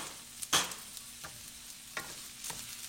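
Food fries in a pan with Kikkoman sauce, a quiet sizzle broken by a few distinct spatula scrapes and taps as the mixture is stirred close by.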